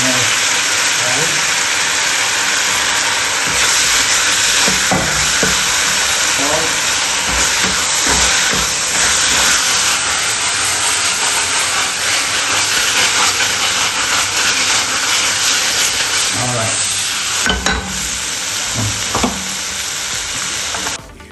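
Lobster and garlic frying in a hot pan, with a loud, continuous sizzle and hiss and scattered clatter from stirring, sustained throughout.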